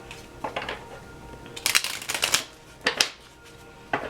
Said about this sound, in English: I'm going to pull a few more cards here.